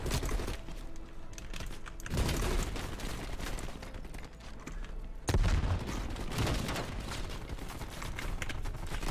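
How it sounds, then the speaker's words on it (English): Explosions from bombs and RPG fire in Call of Duty: Black Ops Cold War, with dense overlapping gunfire and two heavy booming bursts rising out of a continuous loud battle din. "It's a bomb. That's an RPG here."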